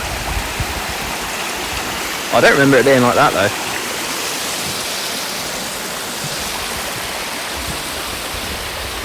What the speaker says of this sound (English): you probably can't hear me because of the fucking water